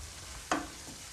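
Food cooks in a pan with a soft steady sizzle, broken by one short scrape of a utensil stirring near the middle, quiet and close.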